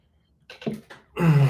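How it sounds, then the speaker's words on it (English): A muffled, held-back sneeze: a few short stifled bursts, then a louder suppressed sneeze at the end, close by. "that was a sneeze, but I held it in"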